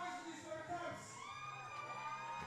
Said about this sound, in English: The crowd's making some noise.